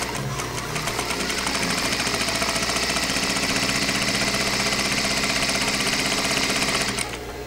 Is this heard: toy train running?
no